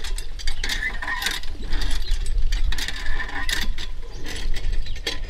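Rhythmic creaking and clanking of a hand water pump being worked steadily, metal parts ratcheting with each stroke, close by.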